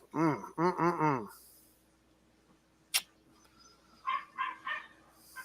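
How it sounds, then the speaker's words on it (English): A little Catahoula leopard puppy barks in two bursts: three loud, close yaps in a quick row, then after a pause three softer, higher yips, over a faint steady hum. "It's a little Catahoula leopard puppy."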